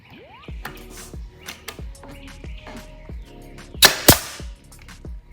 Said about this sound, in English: All right, I put that nail in.